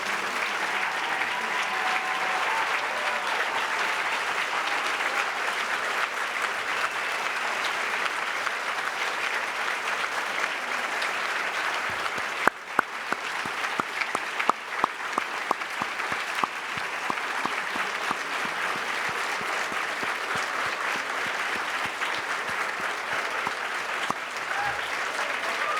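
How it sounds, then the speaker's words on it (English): A large audience applauds finalists at the National Book Awards, a dense, even wash of clapping that stays loud and unbroken for almost half a minute, with a few sharper claps standing out midway. "Our finalists, please rise, and we will shower them with applause."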